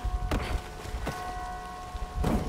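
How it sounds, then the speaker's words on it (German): Soft steady patter of rain in Dying Light 2, with a few louder drop-like thumps at irregular intervals, and a faint constant tone underneath. "Ach, jetzt wieder mit dem Regen."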